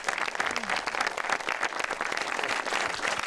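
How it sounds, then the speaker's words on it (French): An audience at a documentary film screening applauds the film's editor, with dense, continuous clapping at moderate volume that fills the room without any break. "On peut l'applaudir"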